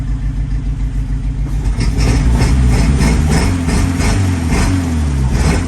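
The engine of a Fiat 1100D car being brought back to life runs close by with a steady, low, throbbing idle. The rumble swells a little partway through and then keeps going evenly.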